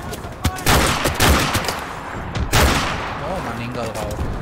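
Call of Duty Modern Warfare gunfire: several loud sharp bursts of shots, close and crackling, with a brief lull between volleys and game voices and sounds mixed in.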